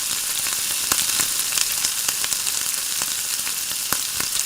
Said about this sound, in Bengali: কই মাছগুলো তেলে ভেজে নেব